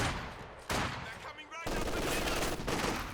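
Conscript infantry in the video game Company of Heroes 2 return fire, a dense loud burst of rifle and machine-gun shots with a brief lull before heavy gunfire resumes and continues.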